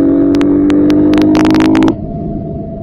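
A KTM motorcycle in fifth gear holds a steady, loud engine drone near 4000 RPM, with sharp clicks over it, then drops to a lower hum after about two seconds.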